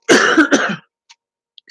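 Two harsh coughs in quick succession, close and loud, followed by near silence with a couple of tiny clicks.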